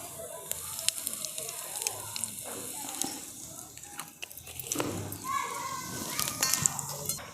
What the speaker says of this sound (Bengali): গোটা জিরে আর হিংটা খুব ভালো করে ভেজে নিয়েছি।